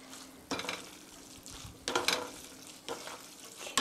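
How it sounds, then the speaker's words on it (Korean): Champon noodles with sauce being stir-fried in a pan with tongs: a steady soft sizzle broken by several rhythmic scraping and tossing strokes, close up and without speech. "불 위에서 고루 볶아주세요."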